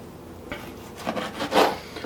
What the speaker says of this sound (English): So I hope you enjoy the dicing of the tomatoes,